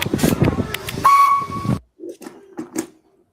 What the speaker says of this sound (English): That was Flying Scotsman's real whistle.